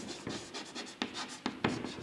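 Quick scratchy strokes of writing on a board during a chemistry lesson, a series of short close scrapes with a few sharper accents, heard alone without speech.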